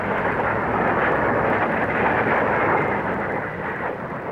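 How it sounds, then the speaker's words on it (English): Loud, broad jet roar swelling and holding, a powerful afterburner (reheat) blast from an English Electric Lightning fighter, fading slightly at the end. "It can do twice the speed of sound and shows off its reheat with a burst of power."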